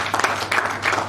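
Brief applause from an audience at a renewable energy panel discussion, rising and falling in three quick swells over about a second, moderately loud with no voices on top.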